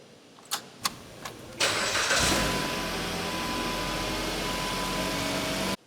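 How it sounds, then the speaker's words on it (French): A car with a dead battery cranks after a jump-start: a few short clicks and churns, then the engine catches and settles into a steady, fairly loud idle close by. "Maintenant, on va essayer de démarrer le véhicule en panne."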